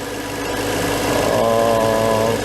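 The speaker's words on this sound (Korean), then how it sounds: "엔진 아이들링은 보고 들으시는 바와 같이 굉장히 깔끔하고" A BMW M3 E92 V8 idles smoothly and steadily up close, a dense, even burble with a faint rise in tone partway through.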